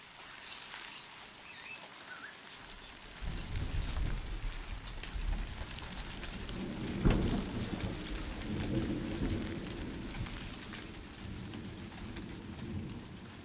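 Heavy tropical rain pours down in an African jungle, starting as a faint patter and then swelling into a dense, steady downpour with a low rumble of thunder around the middle, continuous and enveloping.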